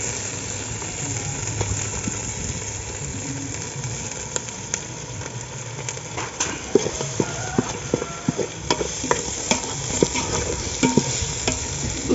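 Ginger and onions frying in a pan for mutton biryani, a steady sizzle with repeated scraping clicks of a spoon stirring, growing busier toward the end, with no talk.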